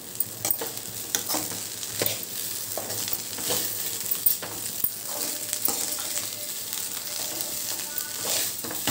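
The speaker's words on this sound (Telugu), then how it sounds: "హై ఫ్లేమ్ మీదే బాగా టాస్ చేసుకోవాలి." Vegetable fried rice tossed in a pan over a high flame: a continuous sizzle broken by frequent scraping and clattering knocks of stirring, close and fairly loud.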